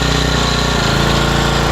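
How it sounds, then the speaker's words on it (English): A car hauler truck's air-conditioning APU engine runs loud and close with a steady rumbling drone, its pitch dropping partway through as it bogs down under load. "You can hear right there the load on the engine."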